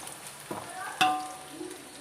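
Low, steady sizzle of mint and coriander leaves frying in a pan, with a couple of sharp scraping clinks as a spatula stirs partway through.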